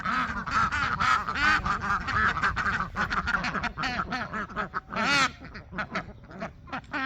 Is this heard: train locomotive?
no